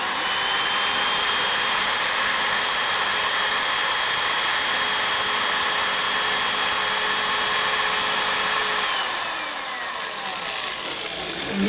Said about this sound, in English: in this way you can drill any particular object till the depth being mentioned in the automatic mode.